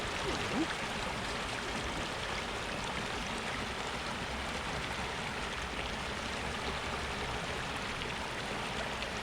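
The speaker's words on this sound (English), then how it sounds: "Lovely sound of running water." Steady broadband rush of a river flowing across a ford in a country park, continuous and fairly loud with no pauses, with no one talking over it.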